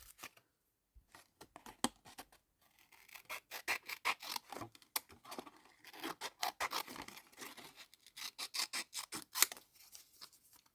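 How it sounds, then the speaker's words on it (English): Paper backing is peeled in short tearing and scratching bursts from a cardboard-like junk journal material, close and fairly quiet, with brief pauses between pulls. "sometimes I try to peel and separate the backings off of things, especially things like this that are kind of like a cardboard sort of material"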